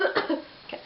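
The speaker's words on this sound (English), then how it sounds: "The cough." A woman coughs a few times close to the microphone while chatting indoors, short dry bursts clustered at the start followed by a softer catch.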